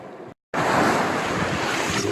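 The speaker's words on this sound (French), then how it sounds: "Le vent du grain. Il y a le nuage qui se vide et ça fait de l'air qui vient vers nous là." Gusting wind from a rain squall at sea, roaring loud and steady across a sailboat with washing waves beneath, after a brief dropout of silence.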